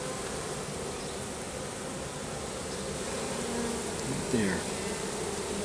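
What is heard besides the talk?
honeybees fanning at a swarm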